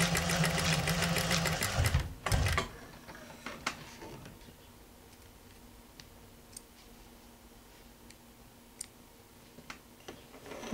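A sewing machine stitching a patchwork seam runs in a fast, steady mechanical rattle for about two seconds up close, then stops, followed by scattered soft clicks and handling sounds.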